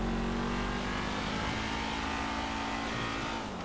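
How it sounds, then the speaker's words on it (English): A car in GTA V races along the Autobahn, its engine droning at a steady high pitch with road and wind noise, loud and continuous throughout with no talk. "Schön auf der Autobahn rasen hier."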